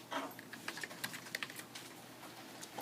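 Fingers typing on a computer keyboard, a quick run of light irregular key clicks, fairly quiet and close, with no voice over them.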